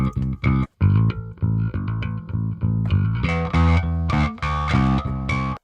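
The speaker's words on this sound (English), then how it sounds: "In the song, maybe it could use more distortion." A gritty, overdriven bass guitar recorded without an amp plays a choppy riff of short, punchy notes, loud and upfront with no voices.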